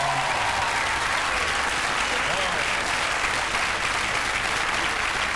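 Studio audience applause on a French television talk show set, a steady dense wash of clapping that fills the whole stretch at even loudness, with no break or rise.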